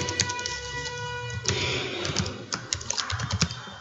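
Fingers type fast on a computer keyboard close up, with dense irregular clicks and a few louder key strikes. No one talks.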